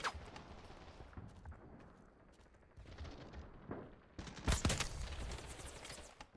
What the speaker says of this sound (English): It's very rude of you to shoot at people.